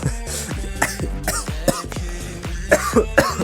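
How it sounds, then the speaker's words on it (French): A series of repeated coughs and throat-clearing sounds, close and fairly loud, coming in irregular bursts with short pauses between them. "Excusez-moi, je tousse."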